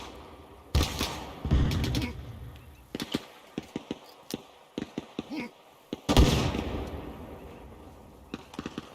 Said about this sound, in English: Alright, let's get a grenade over there. Fire in the hole.